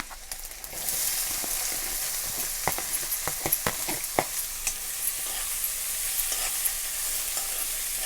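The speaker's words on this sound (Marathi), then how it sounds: "कांदा आता तेलात छान असा लाल होऊ द्यायचा आपल्याला" Chopped onion sizzles and crackles in hot oil up close with whole spices and garlic, broken by a series of sharp scraping taps as it is stirred.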